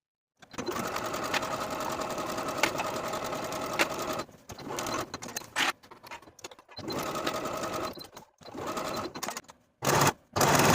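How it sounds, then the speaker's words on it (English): A sewing machine runs along the side seams of a romper, close and loud in several bursts of steady whirring broken by short stops and a few quick stitches near the end. "Then I'll sew the side seams and the inseams with a 5/8 inch seam allowance"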